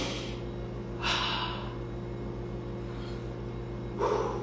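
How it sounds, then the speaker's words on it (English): A person exhales two short, forceful breaths during a beginner core-strength workout, spaced a few seconds apart over a constant low mechanical hum. "Deep exhale."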